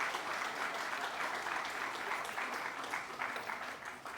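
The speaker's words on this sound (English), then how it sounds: "Please let us give them another round of applause." An audience at a secondary school commissioning ceremony gives students a round of applause, a continuous spread of many hands clapping at a steady level, easing off near the end.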